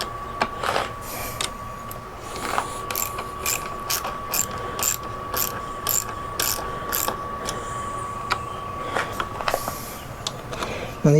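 A ratchet tightens nylock lock nuts on a Givi top box plate fitted to a Triumph T120 motorcycle, with quick runs of sharp, close clicking in repeated bursts separated by short pauses.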